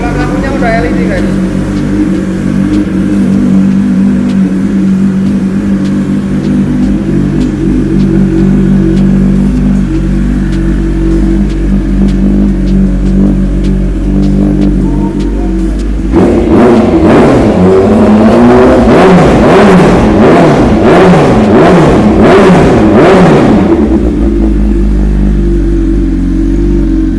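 A 2018 BMW S1000RR superbike in Racing Red, fitted with an Austin Racing exhaust, idles loudly with a deep steady rumble, then is blipped through a series of sharp rising revs near the end.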